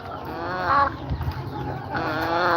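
Australorp and English bantam hens cluck in a farm yard, a steady murmur of soft clucks and calls with a louder burst near the start and again toward the end.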